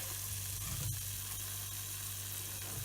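Garlic hitting a pan of Jägersoße over turned-down heat gives a steady, close, moderately loud sizzle with a brief burst near the start, then continuous frying crackle.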